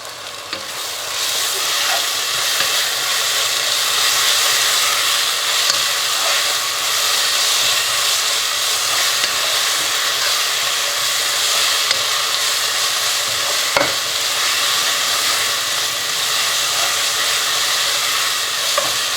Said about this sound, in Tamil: இப்போ இஞ்சி பூண்டு பேஸ்ட் ஆட் பண்ணுறேன்